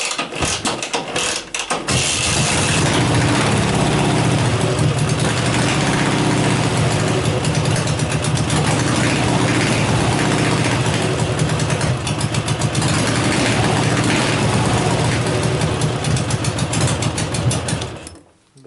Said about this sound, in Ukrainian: Холодний, холодний запуск.